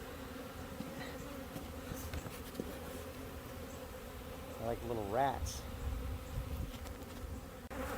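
A swarm of bees in a garage buzzes in a steady drone close by, with a brief spoken remark over them.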